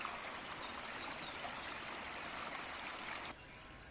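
A river stream flows steadily in the Pyrenees with a dense, continuous rushing and babbling close by, no voices over it; the level dips slightly just before the end.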